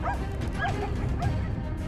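Hunting dogs on a wild boar hunt yelp and whimper in a quick run of short, high, near calls, with steady outdoor background noise and no talking.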